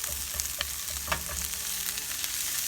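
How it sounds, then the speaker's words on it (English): Chopped plain white onion sweats in a pan with a steady, close sizzle and soft crackling, broken by occasional stirring scrapes, with no voices. "We're going to sweat that onion down."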